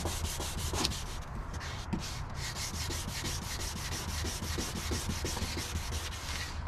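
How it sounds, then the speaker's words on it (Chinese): Water-dipped sandpaper is rubbed back and forth over a yellowed car headlight lens, giving a continuous close, gritty scrubbing with quick, even strokes and no voices. "首先我们沙子沾点水，好，开始磨。"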